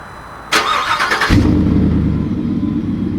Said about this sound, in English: That's beefy actually. Like that's a good sounding exhaust.